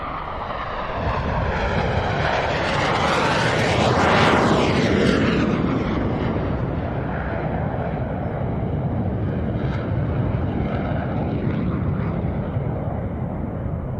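Aerobatic airplanes flying in diamond formation at the SUN 'n FUN 2021 airshow, a loud propeller-engine roar that swells and shifts pitch as the formation sweeps past, then holds as a steady drone, with no talk.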